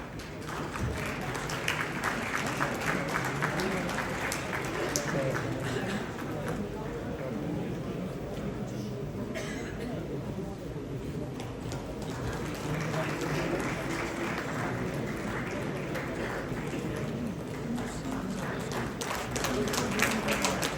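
Steady applause from an audience at a film festival ceremony, moderately distant and continuous across the stretch, mixed with crowd noise and some talk.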